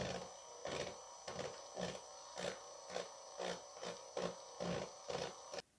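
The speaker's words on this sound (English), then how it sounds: "my Dremel tool with a little milling attachment onto it, just to clear out a little recess for it to sit into" A Dremel rotary tool with a milling attachment runs at its lowest speed while carving a small recess in model railway scenery. A thin steady whine runs under repeated short rasping bursts. The sound is faint and close, then cuts off abruptly.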